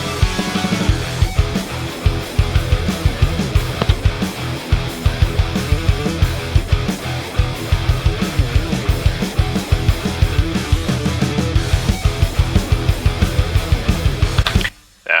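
Full rock band section of guitar, bass and drums, the drums driving a steady punchy beat under dense distorted riffing, loud and continuous until a sudden stop near the end.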